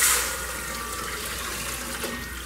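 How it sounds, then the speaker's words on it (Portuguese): One litre of water poured into a cooking pot for homemade noodle soup, a steady close splashing rush with a brief louder burst at the start. "Agora eu tô colocando aqui 1 litro de água."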